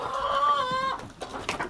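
A rooster crows on a farm, one loud, drawn-out call close by, followed by softer clucking and farmyard sounds.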